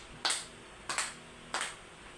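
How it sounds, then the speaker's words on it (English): A classroom of students claps in unison, three distinct sharp bursts of clapping spaced evenly, each decaying quickly, in a fairly quiet room. "can you please give yourself a 5 clap?"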